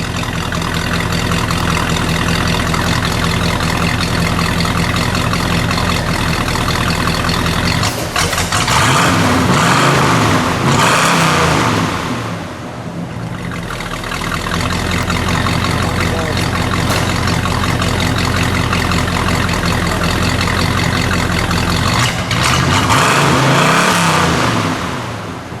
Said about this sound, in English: And then let's give it a rev.